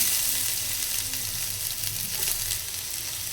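Onion, green chillies, mustard seeds, ginger and curry leaves fry in hot oil, making a loud, dense, continuous sizzle with occasional crackles, heard alone without speech.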